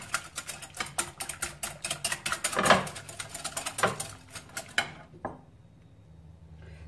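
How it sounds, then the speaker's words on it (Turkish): Chicken pieces being whisked with egg and spices in a bowl, a fast run of rhythmic clicking strokes for about five seconds, then stopping into near quiet. "Hemen bunları böyle yumurtayla bir güzelce hemen böyle çırpıyorum."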